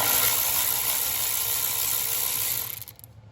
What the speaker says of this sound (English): I use my electric ratchet, which I always use in my videos.